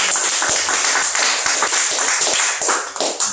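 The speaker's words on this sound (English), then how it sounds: "Round of applause." Audience applause at a Calexit Con panel, a steady burst of many hands clapping close and loud for a few seconds, tapering slightly at the end.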